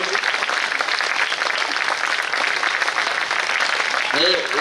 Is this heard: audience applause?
yes